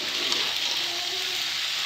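Boiled pasta and peas are stirred in a hot pan, a steady close sizzle with soft scraping running throughout.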